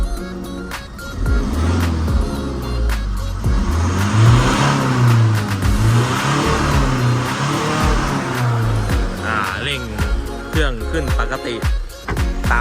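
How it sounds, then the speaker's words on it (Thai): A Tata diesel engine, just fitted with repaired injectors, starts easily and runs loud and close, revving up and down in steady swells with a hint of voice in the background. "มาลองสตาร์ทเครื่องดูกันนะ สตาร์ตติดง่ายครับ"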